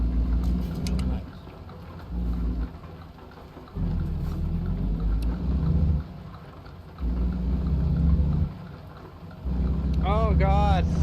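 Rain and thunder in the trucking game American Truck Simulator, driving through rainy, foggy weather: deep rolling rumbles swell and fade in several waves over a steady wet hiss, with a brief voice near the end.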